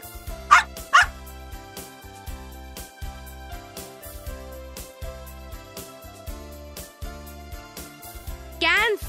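A dog barks twice in quick succession near the start and once more at the very end, sharp and fairly close, over a steady bed of background music.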